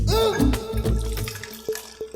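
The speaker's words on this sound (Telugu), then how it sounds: "ప్రపంచంలోనే అతి చిరాకు పని ఏమైనా ఉందంటే అది ఖాళీ బాటిల్లో నీళ్ళు నింపడమే" Water runs into empty bottles up close in short gurgling bursts and splashes, with the flow starting and stopping over a couple of seconds.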